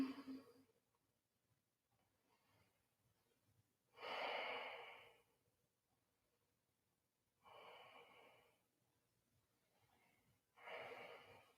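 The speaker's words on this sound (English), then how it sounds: "Breathing deep." Slow, deep breaths during a yoga class come in soft audible waves roughly every three to four seconds, each rising and fading against near silence.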